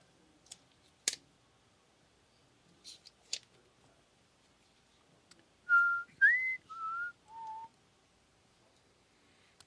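A person whistles a short tune of four or five sustained notes, clear and close, after some scattered clicks and taps like keyboard typing in a quiet room.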